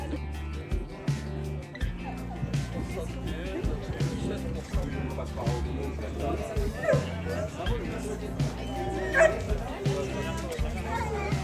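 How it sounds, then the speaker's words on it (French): Several dogs bark and yip repeatedly at a horse sport competition, short sharp barks coming near and far over a low engine hum and crowd babble, with people talking nearby. "c'est une réunion de chiens ici"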